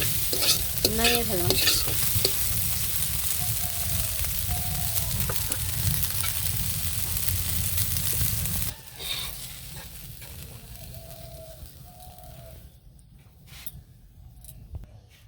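A spoon scrapes and stirs through rohu fish curry with potato and tomato frying in a pan, under a steady sizzle that drops to a quieter crackle partway through.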